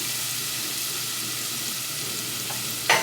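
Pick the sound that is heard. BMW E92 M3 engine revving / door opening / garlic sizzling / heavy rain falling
garlic sizzling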